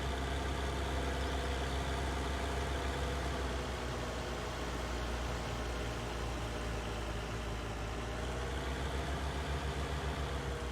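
Big T8 tractor engine in Farming Simulator 19, a steady low diesel drone running continuously at an even idle-like pitch, fairly close and unbroken with no talk.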